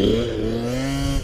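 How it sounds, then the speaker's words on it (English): A KTM 50 youth dirt bike revs on an off-road track, its small high-pitched engine whining loud and close as the pitch climbs steadily through a brief pass. "Here comes Konnor on the KTM 50"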